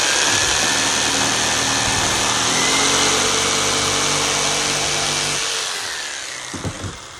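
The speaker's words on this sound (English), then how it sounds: "I take my jigsaw, just put it on an angle" A jigsaw cuts a 45-degree angled edge during an RV air conditioner modification, its loud, steady high-pitched buzz running for about five seconds before winding down, followed by a couple of faint knocks.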